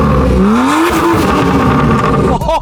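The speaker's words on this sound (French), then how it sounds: "Le petit bruit du N54." BMW 1M with its N54 engine revving hard, a loud close rasping exhaust note with rising pitch sweeps, cutting off near the end.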